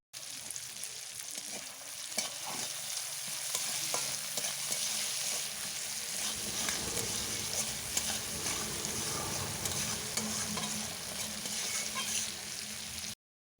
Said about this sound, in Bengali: এরপর পেঁয়াজের সাথে টমেটো খুব ভালোভাবে ভেজে নেব